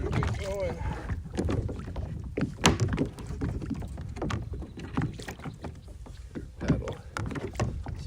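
A fishing kayak with a pedal drive is paddled on open water, with repeated splashing strokes and hull thunks up close, some wind buffeting the microphone and a voice murmuring now and then.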